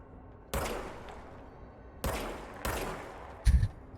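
Gunfire from the service weapon in the video game Control: a few separate booming shots with decaying tails, spaced about a second apart, plus a heavier thud near the end, fairly close with no talking over them.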